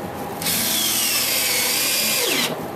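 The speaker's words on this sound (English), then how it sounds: "I like to use these deck screws to actually pre-drill for you while you're putting them in." A power drill drives a deck screw into wood while a chair is being built: one sustained, loud whirring burst of about two seconds that drops in pitch as the screw seats, with quiet room noise before and after.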